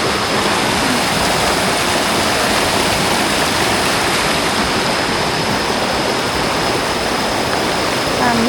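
A village stream rushes past in a steady, loud, unbroken wash of flowing water that fills the whole stretch with no pauses or voices.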